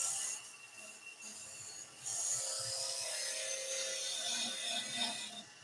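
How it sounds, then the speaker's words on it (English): A skew chisel side-scrapes a spinning wooden workpiece on a lathe, a continuous raspy scraping whir that swells louder partway through and holds steady, heard close with no talking. "use the side face of the skew just to give me a little side scrape there"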